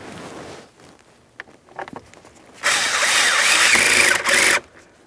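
A power tool drives a steering column mounting bolt on a 2015-2025 Ford Transit 250. It runs as one loud, steady whir for about two seconds after some quiet handling clatter, then stops abruptly.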